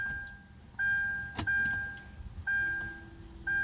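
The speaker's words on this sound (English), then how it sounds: "you hear the fuel pump prime and everything is dinging" A 2009 Hyundai Sonata's electric fuel pump hums as it primes with the key in the on position, while warning chimes ding repeatedly in a steady pattern, with a brief click in between.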